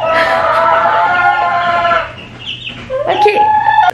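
Chickens cluck loudly and close in a busy, layered stretch of calls, then pause briefly before another hen breaks into a sharp, rising squawk.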